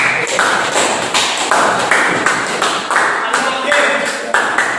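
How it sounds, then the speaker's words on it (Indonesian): A second-grade class clapping hands together in a lesson, rhythmic bursts of claps in a steady repeating pattern, with a voice audible among them. "maka tepuk tangan untuk kita semua."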